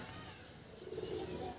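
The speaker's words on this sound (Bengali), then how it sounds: "এটাও আপনার মাদ্রাজি কবুতর।" Madras pigeons cooing in a loft, soft and faint beneath a low murmur of background voices and room noise.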